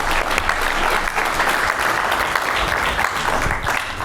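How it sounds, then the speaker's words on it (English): Audience applause for AmpPost Technology at a startup pitch contest, loud and steady dense clapping from a crowd filling the whole stretch without a break. "let's give another round of applause for AmpPost Technology."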